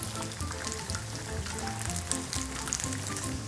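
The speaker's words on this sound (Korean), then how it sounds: "불을 프라이팬 아주 약하게 놓고 그냥 버터 안 넣고 구우셔도 구워져요" A pork-and-garlic burger patty fries in a pan over very low heat, giving a steady, dense sizzle with close crackling pops that runs throughout without a break.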